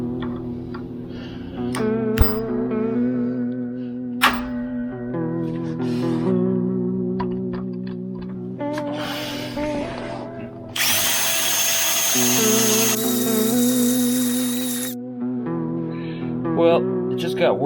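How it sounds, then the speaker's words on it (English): Power drill boring into a broken bolt with a 1/8 inch bit during a Land Cruiser lift kit install, whirring in several bursts with brief pauses and a higher-pitched spell of drilling partway through. "I'm going to start with an 1/8 inch bit and work my way up until this fits in there."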